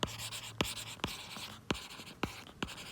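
Chalk or marker strokes on a board during an accounting lesson, a series of sharp scratchy taps and short scrapes spaced about half a second apart, close and fairly quiet with no talk.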